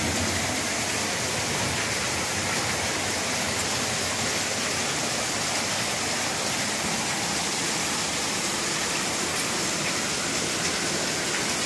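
Heavy rain pours down in a dense, steady roar that stays constant and loud throughout, with no breaks or voices.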